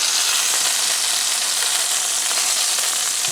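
Pork tenderloin sizzles steadily in a hot pan, a dense, even hiss of frying holding at constant loudness for the whole stretch, with no voices over it.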